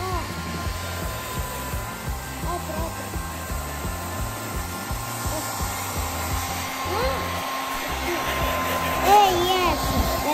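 A hair dryer runs steadily, drying a duckling, with a continuous whirring drone throughout and excited voices talking over it.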